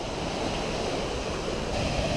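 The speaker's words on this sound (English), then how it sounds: "the waterfall is just rocking and rolling." Whitewater rapids and a waterfall swollen by an atmospheric river storm rush in a steady, loud roar, a dense wash of water noise with a little wind rumble underneath.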